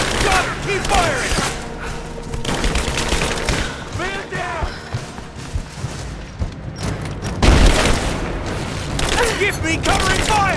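Sustained gunfire from a firefight in Rise of the Tomb Raider, with rapid bursts and heavy booms over a dense, loud mix while shouted voices call out across the action.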